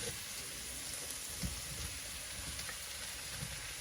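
Mushrooms sizzling as they fry in a pan alongside chicken escalopes, a steady close crackle with scattered soft pops running evenly throughout.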